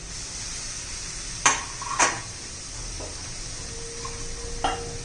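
Quiet background hiss with a few distinct scrapes and clinks of a utensil stirring cabbage in a pan, spaced a second or so apart.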